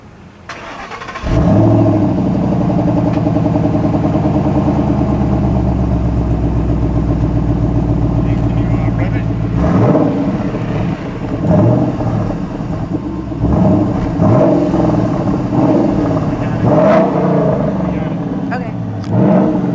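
A Ford Mustang Boss 302 fires up and idles with a deep, throaty exhaust rumble, loud and close, with a few blips of revving toward the end while people talk over it.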